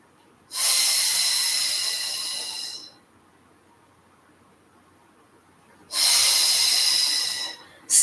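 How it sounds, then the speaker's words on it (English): Two long, forceful breaths during a Pilates ab workout, each a loud, close hiss lasting a couple of seconds, separated by a quiet pause, with no talking. "Inhaling for 5."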